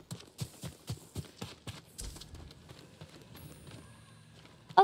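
A horse's hooves clip-clop in an even walking rhythm in the game Ghost of Tsushima, clear at first and then fading into quiet ambience.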